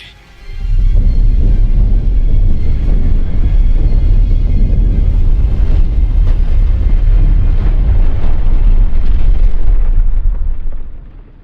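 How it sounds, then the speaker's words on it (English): A neutron bombardment in Mass Effect 3 rumbles as one long, loud, continuous roar of explosions, deep and booming, lasting about ten seconds before it fades out, with no voices over it. "Neutron bombardment underway."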